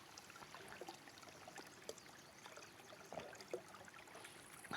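Cold spring water runs down from the mountain in a gorge, a faint, continuous trickle and splash with small irregular drips and no voices.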